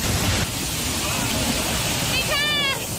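During heavy rain in the old street quarter of Jinshan, floodwater rushes through the street and past a temple with a loud, continuous broadband wash. Near the end a brief squeaky, whistling tone rises over the steady roar.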